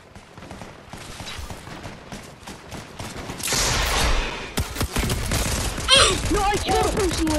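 Rocket launcher fire in a multiplayer video game: a loud blast around the middle followed by a bright burst and explosion near the end, over dense game effects and background noise, with players talking throughout.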